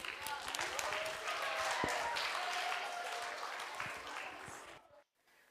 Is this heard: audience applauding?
yes